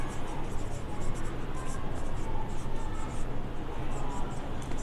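Pen scratching out a handwritten math solution on paper, close and continuous, with rapid strokes under a steady background hiss and no pauses.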